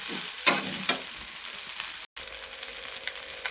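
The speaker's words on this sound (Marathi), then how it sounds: "याला आता आपण जास्त नाही पाच मिनटं परतून घेऊया" Pasta with a pinch of black pepper powder sautéing in a pan, a steady soft sizzle with a couple of sharp stirring clinks near the start, heard alone without talk.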